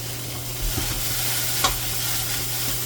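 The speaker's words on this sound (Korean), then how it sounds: "물과 기름으로 튀겨주는 겁니다. 이렇게 어느 정도 됐을 때 양파를 넣습니다." Onions sizzle in a mix of water and oil for homemade jjamppong, a soft continuous frying hiss with faint stirring clinks and one sharper scrape midway.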